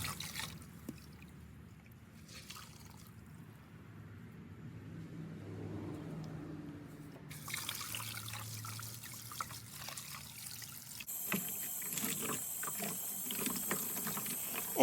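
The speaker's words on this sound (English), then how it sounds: "I disposed of that rusty water outside as well" Rusty rinse water poured out outdoors, a soft trickling and dribbling splash at low level among faint outdoor background noise, with no voices.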